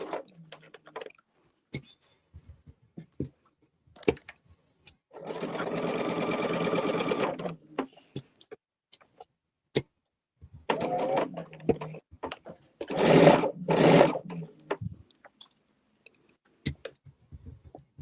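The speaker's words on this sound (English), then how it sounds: "whether or not this will sew over that little hump again, I don't know" A sewing machine stitches quilt blocks over a seam hump in short bursts: one steady run of rapid stitching, then a briefer run, then two quick spurts, with soft clicks and handling noises in the pauses.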